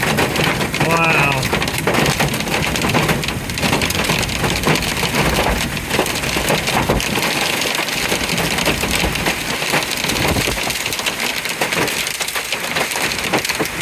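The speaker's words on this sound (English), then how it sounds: "Here comes the wind and torrential rain." Torrential rain driven by high wind pours down in a severe Kansas storm, a loud, dense, unbroken roar of water hitting surfaces nearby, with a brief spoken voice near the start.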